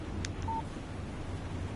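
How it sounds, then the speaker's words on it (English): A phone text message alert in the Alan Wake Remastered video game gives a couple of brief, faint electronic beeps and a short tone over a steady background hum. "Text message from Barry."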